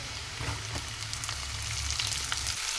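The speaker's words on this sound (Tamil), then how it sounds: "ஸோ இப்போ வந்து நான் வெங்காயம் ஆட் பண்ண போகிறேன்." Onions sizzle as they fry in a small amount of hot oil for a dhaba-style egg masala curry, a dense, steady crackle that stays close and even throughout, with no talking.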